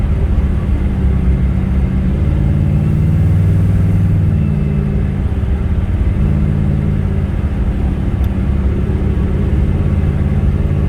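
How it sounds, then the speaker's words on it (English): A 1956 Chevrolet cruises down the road, heard from inside as a loud, steady low engine rumble and road drone, with slight swells in engine note and no talking. "Car goes down the road really nicely. Just a very nice driving 56 Chevrolet."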